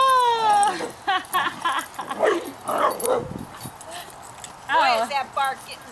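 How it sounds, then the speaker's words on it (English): Puppy barks and whines in short bursts, close by and fairly loud, mixed with people chatting and calling to the dogs. "Boy, is that bark getting big, huh?"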